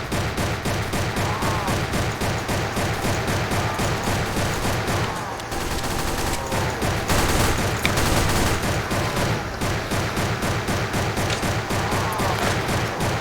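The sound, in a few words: turret gunfire in Roblox The Final Stand 2, video game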